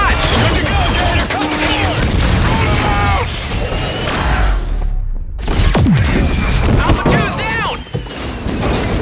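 Heavy gunfire in the video game Call of Duty: Infinite Warfare, a dense loud barrage of shots and booms with shouted voices over it, cutting out briefly in the middle before resuming.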